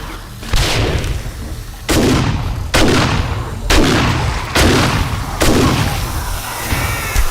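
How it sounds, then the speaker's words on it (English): Loud, booming gunshots in the video game 7 Days to Die, six heavy reports spaced about a second apart, each with a long rumbling tail over a constant low background roar. "The gunshots are massively delayed."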